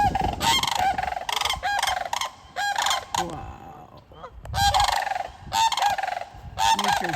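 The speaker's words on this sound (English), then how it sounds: "Goose, angry Sandhill cranes, because we've got also a swan and a goose." Geese honk loudly and repeatedly in dense, overlapping bursts among sandhill cranes, a swan and other wild birds outdoors in spring, with a brief lull midway before the calling resumes. A voice makes one short exclamation.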